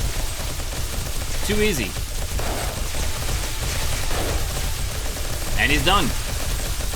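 Rapid gunfire unloading bullets into a single zombie in 7 Days To Die, forming a steady rattle of shots under a talking voice and game noise.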